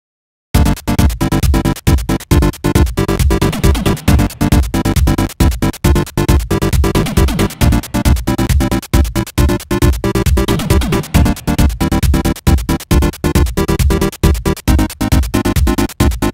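Finished chiptune music track built from retro chip-style synth sounds, dense and loud throughout with a steady, rapid rhythmic pulse of percussive hits over sustained tones, no voices.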